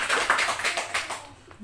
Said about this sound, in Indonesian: Bisa kasih tepuk tangan.